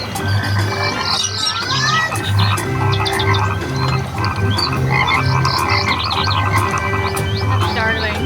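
Frogs croak steadily in a Disneyland attraction, a dense chorus of repeated low croaks running the whole time with chirpy bird-like calls layered above, loud and close against busy background noise.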